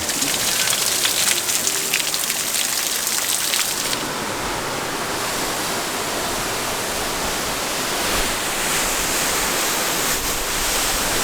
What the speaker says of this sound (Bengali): এখন একটু বৃষ্টি পড়তেছে